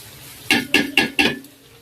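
Four evenly spaced metallic scrapes and clinks of a spoon stirring a roast dish in a cooking pot on a home stove, crisp and close, with no talking.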